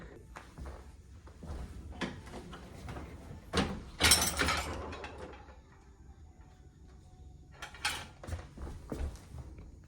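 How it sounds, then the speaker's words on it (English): Dishes from the sink go into a home dishwasher, with close clinks and clatters in several bursts, a rack sliding and creaking, and quiet pauses between, and no voices. "I'm gonna put the last couple of dishes that I have in the sink in there so it can run"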